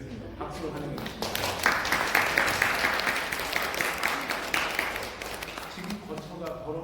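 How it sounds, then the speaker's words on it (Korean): A church congregation at a Korean Sunday service breaks into welcoming applause. The clapping swells after a short start, holds for several seconds, then tapers as talk resumes. "박수로 환영해 주십니다."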